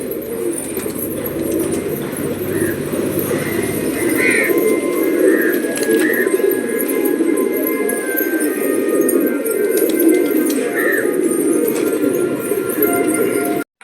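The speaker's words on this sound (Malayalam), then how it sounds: "അപ്പം ഇതൊക്കെയാണ് നമ്മളെ പ്രാവുകൾ" Pigeons coo steadily in a breeding loft housing males, females and chicks, their low, overlapping calls filling the space close by alongside a few brighter chirps, with faint background noise throughout.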